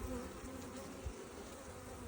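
Honeybees drone steadily inside a hive, a soft low continuous buzz that stays quiet and even throughout, with no voices.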